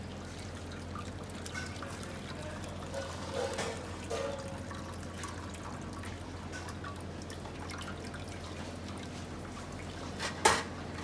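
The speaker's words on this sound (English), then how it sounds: "So we will strain this yakni." Meat stock (yakni) for biryani being strained, a faint, steady trickle of liquid pouring and dripping through a strainer against a low kitchen hum, with a brief louder clink near the end.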